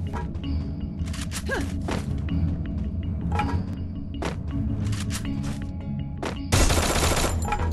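Gunfire in a shooting video game, with repeated bursts of rapid automatic fire and sharp single shots over a steady loud rumble, ending in a dense sustained volley.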